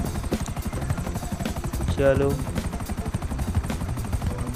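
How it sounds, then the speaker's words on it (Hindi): Helicopter rotor chopping loudly and steadily in the GTA 5 video game as it flies over a mega ramp to land, with someone speaking over the rhythmic thumping throughout. "उसी के ऊपर ले जाना है हेलीकॉप्टर को, और उसके ऊपर लैंड करा लेना है।"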